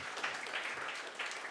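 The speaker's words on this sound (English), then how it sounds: "Big round of applause." A brief round of applause from the audience at a data analytics and AI in financial services event, steady dense clapping throughout.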